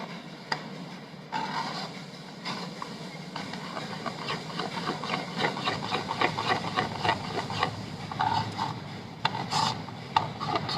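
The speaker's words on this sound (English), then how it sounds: "So I'm stirring continuously so that there are no lump formations at any point in time." Chocolate mix stirred continuously in a pan, giving a steady scraping, rubbing rhythm of a utensil against the pan bottom that runs nearly throughout at close range, with no talk over it.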